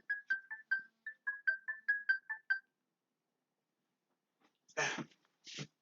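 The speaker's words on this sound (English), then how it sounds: "Stupid phone alarm. I should remember to turn that off." A phone alarm rings in a quick series of about ten bright electronic beeps, then stops; a couple of short breathy noises follow after a pause.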